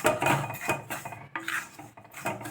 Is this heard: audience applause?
no